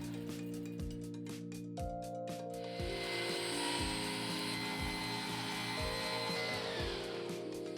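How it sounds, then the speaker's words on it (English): A table saw makes repeated ripping passes through cherry wood to cut a half-inch channel, with a steady motor whine and rhythmic bursts of the blade biting into the board, loud and close throughout. "Then I cut repeated passes on the table saw to create a 1/2 inch channel"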